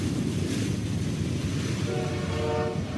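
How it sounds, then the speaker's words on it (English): Two Norfolk Southern mixed freight trains meet on the Harrisburg line, a loud continuous rumble of passing cars with wheel clatter and a sustained horn tone rising near the end. "Once again, two NS mixed freight trains meeting."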